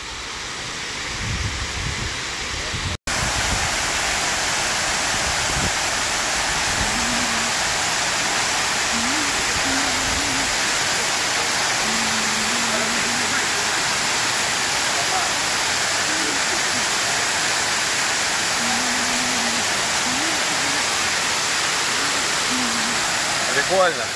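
Steady, loud rushing roar of a waterfall with people standing under it, broadband and constant, filling the whole clip, with faint voices and a brief bump near the start.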